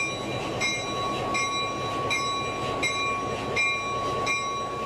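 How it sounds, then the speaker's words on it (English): A railroad locomotive rolls slowly toward a caboose to couple, with a steady low rumble and a faint recurring high tone or squeal at regular intervals, heard from a moderate distance. "As the locomotive approaches the caboose, he checks that the couple is open to tie on."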